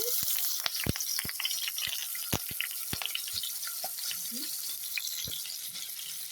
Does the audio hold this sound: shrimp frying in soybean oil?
yes